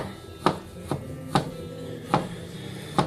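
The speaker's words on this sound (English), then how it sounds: "Slice it up nice and thin" A purple G10-handled knife slicing corned beef thinly, five crisp chopping cuts spaced about half a second apart onto a board, close and clear with no voices.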